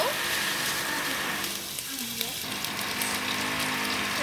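Chicken for khichuri fries in a pan until reddish, giving a steady moderate sizzle with some bubbling, and a voice faintly audible underneath.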